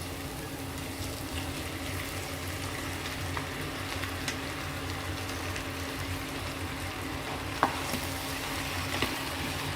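Zucchini for a zucchini-and-egg tajine sizzles steadily in a hot frying pan while being stirred, a continuous close frying hiss with an occasional utensil clink and no talking.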